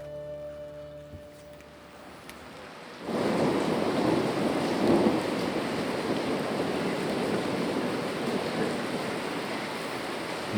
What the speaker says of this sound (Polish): Nad miastem przechodzi burza, ale co nam burza?